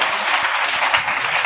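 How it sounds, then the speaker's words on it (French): A church congregation applauds during a sermon, a dense, continuous burst of clapping filling the room. "Tu es avec moi, acclame Jésus."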